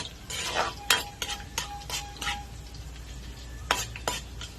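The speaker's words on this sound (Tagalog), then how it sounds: "Mag-isa po ako ng bawang." Garlic sautéing in a pan while preparing bopis, with a soft sizzle beneath a series of sharp spoon scrapes and taps against the metal, irregular and close by.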